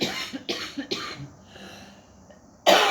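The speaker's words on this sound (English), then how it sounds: "still working on that cough a little" A few sharp coughs in quick succession, close by, followed by a quieter stretch and then one more loud cough at the end.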